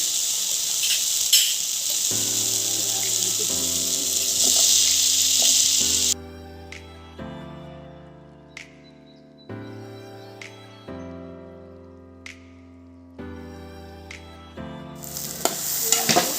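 Cut potatoes sizzle loudly in a pan with already-fried tomatoes and are stirred, a strong frying hiss at the start and end, with stepped tonal music playing through the middle stretch.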